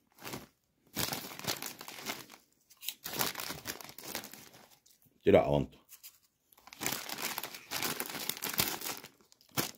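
Bags of Lulu cheese-flavored chips crinkle and tear in several bursts up close, with someone talking between the handling noises.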